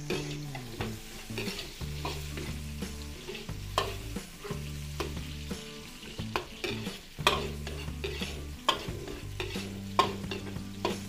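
Garlic, then onion, sautéing in cooking oil, with steady frying sizzle and repeated utensil stirring scrapes and clanks close by, no talking.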